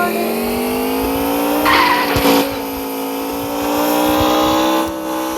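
Small RC car driving hard with a steady high motor whine that rises and falls, with brief bursts of tire skidding and scraping, close and loud throughout.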